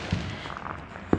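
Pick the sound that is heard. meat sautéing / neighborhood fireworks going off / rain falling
neighborhood fireworks going off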